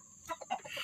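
A sick Rhode Island Red hen gives several short, soft clucks in quick succession, close by and fairly quiet with no talking.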